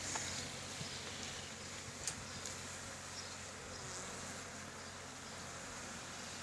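Dense, steady buzzing of many honeybees close by on brood hive frames, a continuous drone with a few brief ticks and bumps, no voices.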